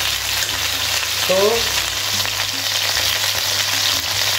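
Chicken sears loudly in a pan for mustard chicken, a dense, continuous frying hiss running throughout, with a brief word spoken over it partway through.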